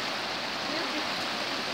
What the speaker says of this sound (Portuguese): o barulho da, da água, você viu?